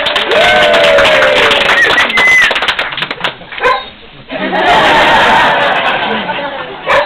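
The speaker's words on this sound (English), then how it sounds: "Everyone claps and cheers." A crowd at Bookends bookstore in Ridgewood, New Jersey applauds and cheers loudly and continuously for Bernadette Peters, with a short dip midway before the clapping surges again.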